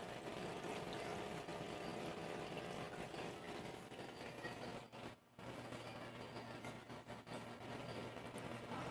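An aquarium aerator pushes air through a single air stone in a marine tank, making a steady, faint, continuous bubbling hiss with a brief dip partway through.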